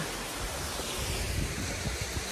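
Waterfall at Shirley Falls, a loud steady broadband rush of falling water heard close up, continuous roar with some wind buffeting on the microphone and no talk.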